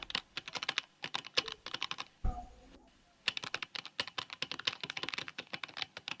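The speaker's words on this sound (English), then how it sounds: "Let me type it and then explain." Fingers type a prompt on a computer keyboard in quick, close, crisp key clicks. There are two fast bursts with a short pause and a dull thump between them.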